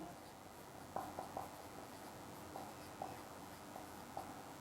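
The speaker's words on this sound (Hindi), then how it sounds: "मैं शॉर्टकट लिख रहा हूं" A pen scratches across paper as shortcuts are jotted down for a 10th class maths exercise, giving faint, close strokes in short bursts over a low, steady background hiss.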